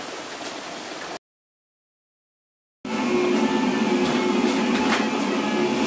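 Steady mechanical whirring and buzzing with faint motor tones from a Rostock Max v2 3D printer printing, continuous and fairly loud, following a short stretch of total silence.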